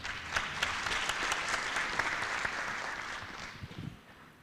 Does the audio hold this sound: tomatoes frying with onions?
no